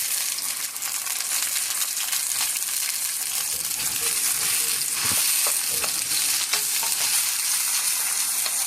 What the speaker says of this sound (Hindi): इसको हम जो है वो प्याज के साथ थोड़ी देर फ्राई करेंगे।